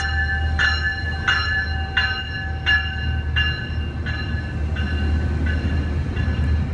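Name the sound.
train passing by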